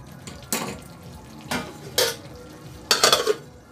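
Chicken cooks in a pan without added water, with several separate bursts of utensil scraping and stirring against the pan over a low sizzle, the last burst a quick cluster of scrapes.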